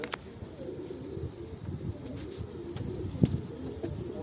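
Pigeons coo softly in a loft where grey smoky spotted breeding pairs and their young are kept, a steady low murmur of calls with a sharper sound near the end and no voices.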